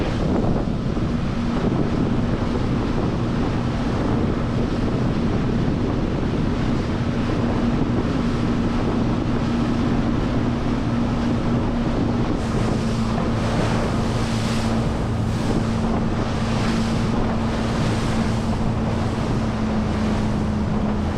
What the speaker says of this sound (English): It is still pretty windy